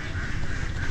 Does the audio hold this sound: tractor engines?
no